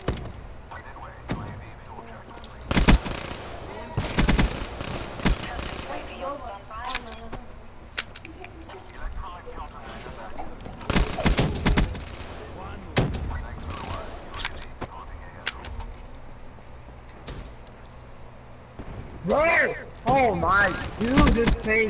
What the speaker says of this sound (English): This kid shooting before I can even aim.